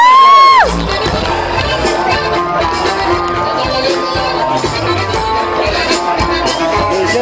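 Crowd at a jaripeo cheering, whooping and applauding loudly and steadily for the whole stretch, with children shouting among the noise, after an opening whistle-like tone that quickly drops away.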